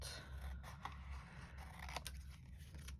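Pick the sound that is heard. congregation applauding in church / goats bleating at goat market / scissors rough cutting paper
scissors rough cutting paper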